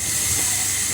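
A DeLonghi coffee machine pump pulsing water through the steam thermoblock to the steamer, heard as a steady, loud hiss with a faint low rumble throughout the short stretch.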